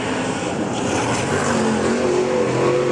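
Late model race cars at Boyd's Speedway in Plant City, Florida: a loud, continuous engine roar with rising and falling pitch as the cars run past, no voices over it.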